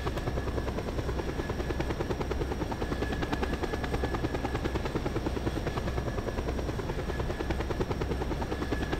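A steady, continuous helicopter rotor drone from the video game Just Cause 2 plays alone at moderate level with no talk.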